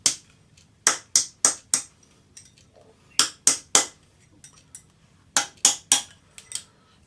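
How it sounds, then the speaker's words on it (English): Rawhide hammer tapping a metal love knot cuff bracelet around a ring mandrel, sharp bright clinks in quick clusters of three or four with short pauses between, close and crisp. "it's quite easy to form this just by tapping it around a ring mandrel"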